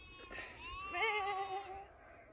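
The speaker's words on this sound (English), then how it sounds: "Hey mum, we found a bunch of sheep." Sheep bleating outdoors, a single wavering bleat rising and trailing off, close and clear over faint background noise.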